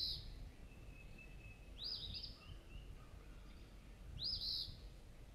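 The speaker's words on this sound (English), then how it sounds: "Moving on to a bird that says its own name, the Eastern Phoebe." Eastern Phoebe song: two scratchy, buzzy bursts about two seconds apart, bright and fairly close over a low background rumble, with no talk.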